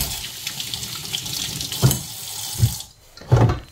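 Raw pork chops rinsed under a running kitchen tap in a sink: a steady rush of water with a few soft thumps and splashes as the meat is handled, close and alone.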